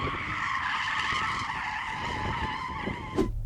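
Front tyre screeching and skidding hard at a drag race launch between a BMW M8 Gran Coupe Competition, Porsche Panamera Turbo S, Audi RS6 and Mercedes-AMG E63 S; a steady, close, loud squeal lasting about three seconds before cutting off.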